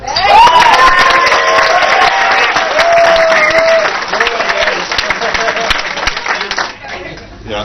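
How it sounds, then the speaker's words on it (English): Wedding guests applaud the best man in loud, dense clapping that fills the room and keeps going, with cheers and voices mixed in, then tails off near the end. "can I please have one last big round of applause for the best man?"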